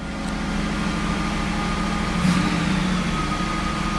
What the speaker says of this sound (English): Fast idle is on.